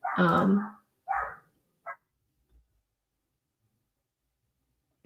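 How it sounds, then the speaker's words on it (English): Dogs give a few sharp barks, one loud and close followed by two quicker, smaller yips, then silence. "dogs are barking and I need to make sure that they're alive"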